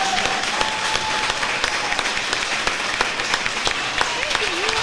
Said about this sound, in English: Can we give a round of applause for both of the candidates one more time?